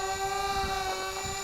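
An X520 RC model airplane hovers like a quadcopter, its motor giving a steady, loud, high-pitched whine that holds constant throughout.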